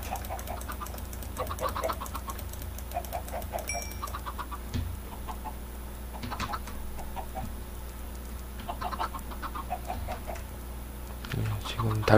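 Chickens cluck in Minecraft, with repeated short clucking bursts scattered across the stretch over a steady game background hum, plus occasional small thumps and clicks from play.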